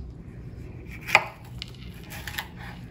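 A knife chops produce on a wooden cutting board in a teaching kitchen: one sharp close cut followed by a few lighter, scattered taps over quiet room tone, with no talking.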